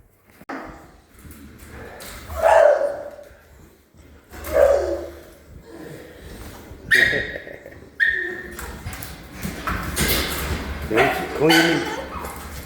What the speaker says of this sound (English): I can hear them barking